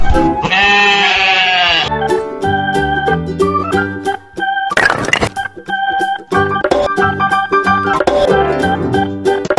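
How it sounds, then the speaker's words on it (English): A cartoon sheep gives one loud, wavering bleat at the start, then upbeat children's music carries on with a short noisy burst partway through. "Sheep."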